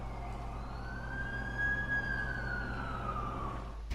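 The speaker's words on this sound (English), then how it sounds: "That's the ambulance I called." An ambulance siren arrives in The Amazing Spider-Man 2 video game, a single long rising-and-falling wail, moderately distant and fairly quiet over a low engine rumble, with no talk.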